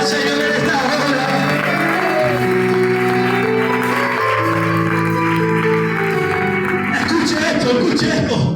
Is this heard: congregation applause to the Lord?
yes